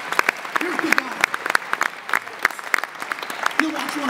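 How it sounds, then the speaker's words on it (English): Conference audience at the Nordic eCommerce Summit clapping in a loose, uneven patter of sharp claps, with a voice talking over it at times. "let's clap it up for these guys"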